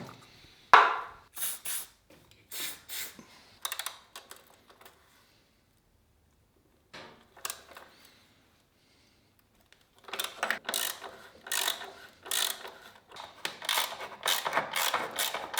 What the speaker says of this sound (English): undo a couple of 10mm bolts and then hopefully slide that tray out